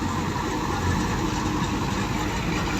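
A Farmer 533 tractor engine runs steadily close by, a continuous low, rough idling rumble with no breaks.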